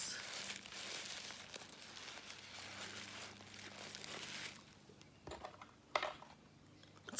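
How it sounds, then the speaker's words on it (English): Wrapping paper crinkles and tears steadily as a package is unwrapped by hand, a dense close rustle for several seconds that then drops to sparse crackles and a couple of sharper handling knocks. "we'll find out what's in there as we unwrap it"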